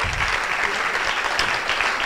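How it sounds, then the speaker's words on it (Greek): Audience at a 2005 graduates' reunion breaks into dense, steady applause for a teacher, a close wash of many hands clapping together throughout with no break. "Και ένα χειροκρότημα και για τον κύριο Καρυπίδη."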